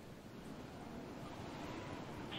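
Heavy rain and a storm pour down outside in a steady, dense broadband rush, like a constant wash of water and wind. It holds at an even loudness throughout, with no voices.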